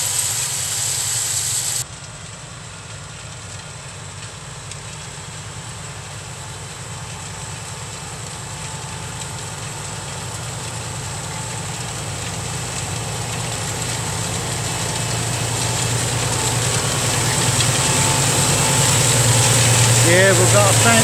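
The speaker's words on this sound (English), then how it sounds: "Yeah, we've got a fendt tractor," A Fendt 420 tractor engine runs steadily while drilling on a Suffolk farm, a constant low rumbling drone that slowly grows louder and closer, with a faint whine late on.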